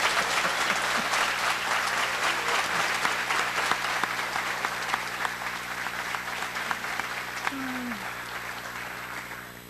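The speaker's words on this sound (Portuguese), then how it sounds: "lembre-se de dar palmas para as cozinheiras." A large audience at a Christian conference event in Brazil applauds the cooks, steady dense clapping that slowly fades toward the end, with faint crowd murmur underneath.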